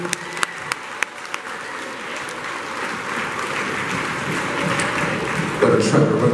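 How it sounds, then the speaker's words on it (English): An audience at a school Black History program breaks into sustained applause, a few scattered claps first swelling into a dense, even wash of hands clapping in a hall. "Would you help me celebrate them by clapping your hands"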